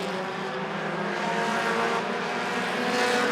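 Dash series race cars roaring around the oval at Rockford Speedway, a steady, loud wash of engines at full throttle as the pack pushes deep into a corner, with no talk over the continuous racing noise.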